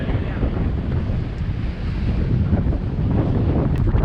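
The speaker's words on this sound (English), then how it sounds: "now the wind is just extreme. It's almost blowing us over" Strong wind on Lake Superior while canoeing roars steadily across the microphone with surf and choppy water beneath it, loud and continuous.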